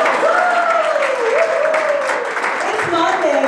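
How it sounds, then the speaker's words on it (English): An audience at a marketing conference session claps steadily for a few seconds while a voice talks over the applause. "I'll take an applause."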